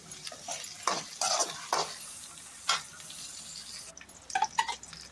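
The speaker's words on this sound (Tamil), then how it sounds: "இப்போ வந்துட்டு கருவேப்பிலை சேர்த்துக்கலாம் இதில் அதே நல்லா வணக்கிக்கலாம்" Curry leaves being sautéed and stirred into onions for beef gravy, with loud, irregular spoon scrapes against the pan over a low background sizzle, and a cluster of quick stirs near the end.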